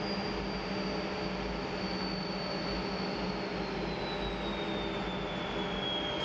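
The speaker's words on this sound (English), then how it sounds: "the L-29 landing on, and in doing so, becoming the first jet ever to operate from the grass airfield here at Leszno" Aero L-29 jet landing on the grass airfield at Leszno during an airshow, a steady loud engine roar with a slowly falling high whine, continuous and without voices.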